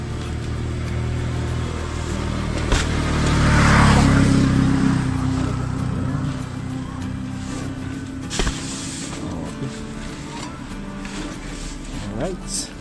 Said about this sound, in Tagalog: Bago lang kasi dumating yung truck nila na may kargang buhangin.